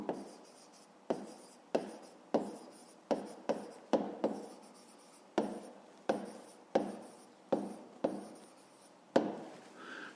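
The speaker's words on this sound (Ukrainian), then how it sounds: "Ну що ж, записуємо відповідь." A pen writes an answer on paper for a fifth-grade maths exercise, with a dozen crisp, evenly spaced scratching strokes close to the mic in a quiet room.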